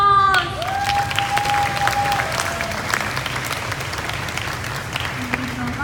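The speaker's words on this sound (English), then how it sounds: "Please give him a big applause." Loud, sustained applause from an audience at a talk, with a brief voice over it at the start.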